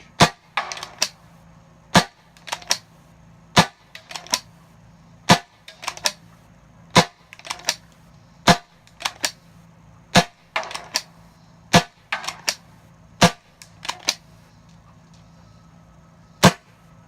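An air gun powered by a Crosman 12-gram CO2 cartridge at about 700 psi fires more than a dozen sharp, loud cracks, roughly one each second, with fainter ticks in between.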